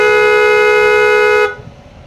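A loud, steady horn blast from a Suzuki Smash motorcycle holds for about a second and a half, then cuts off abruptly into quiet background noise.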